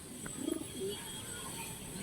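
Andhra Lambadi pigeons coo softly nearby, a few low throaty calls over a quiet background hum.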